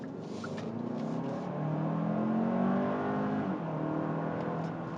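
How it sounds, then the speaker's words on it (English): A 2024 Hyundai Santa Fe XRT turbo SUV engine revving hard at full throttle and climbing through the gears, a rising whir and growl heard from inside the cabin at moderate volume. "So I'm going to lay into the throttle here."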